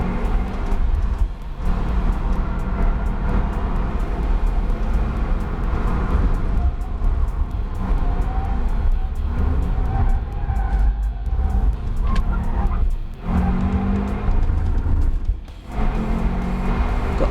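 A Subaru WRX STI Type RA is driven hard on a wet racetrack, with a steady in-car engine drone and road rumble running throughout and brief dips as the throttle eases.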